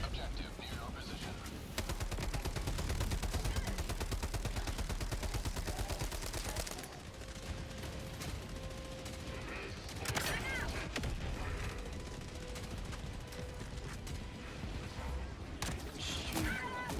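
Enemy gunfire in Helldivers 2 rattles in a long dense automatic stream, loud and close, then breaks into scattered shots and impacts over a busy combat backdrop.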